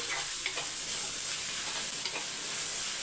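Onions being stirred and sautéed in an open pan while cooking chicken thokku, a steady close sizzle with soft scraping strokes of a spoon running throughout, no voices.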